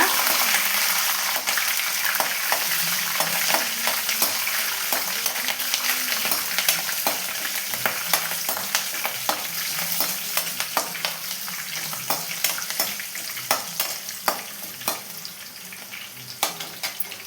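Three green chillies frying in hot oil in a pan for potato masala, a continuous sizzle broken by frequent clinks and scrapes of stirring, close and steady.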